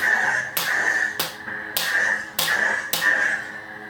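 Five sharp buzzing lightsaber clash hits land about every half to two-thirds of a second over a steady electronic hum.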